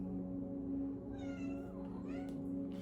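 A pet cat meowing indoors, two drawn-out plaintive cries close by over a constant low electrical hum.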